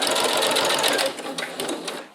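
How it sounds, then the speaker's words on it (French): A sewing machine stitches a hidden-zipper cushion, running steadily and close with fast even needle clatter, then slowing into a few uneven bursts before stopping. "Et je continue à coudre normalement."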